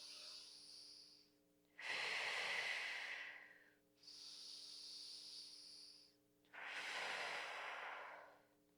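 Slow, deep yoga breathing, two full cycles of long airy inhales and exhales, each lasting around two seconds with short pauses between, close and clear over a faint steady hum.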